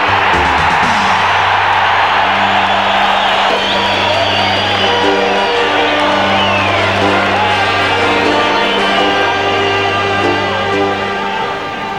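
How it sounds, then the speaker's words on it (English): A rugby crowd cheers loudly and continuously after a try is scored in a Wallabies match, with whoops and shouts rising over a steady roar, and a low horn-like drone sounding in repeated long blasts. "When at last the try is scored, doesn't the crowd love it?"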